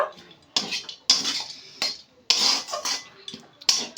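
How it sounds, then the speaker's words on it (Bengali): Filling in a pan for a Bengali snack, mixed with fried peanuts and chopped coriander leaves: a utensil scrapes and knocks against the pan in about half a dozen short, close strokes with quiet gaps between, no talk. "বেশ ভালো করে এবার মিশিয়ে নেব"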